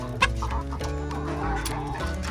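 Chickens cluck at a feeder: steady, close, overlapping clucks with no voices.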